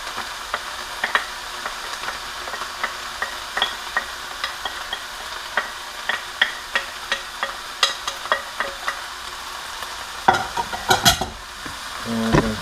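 Onions and peppers sizzle in a pan for chili, a soft continuous fry broken by repeated scraping stirs, with louder clattering strokes near the end.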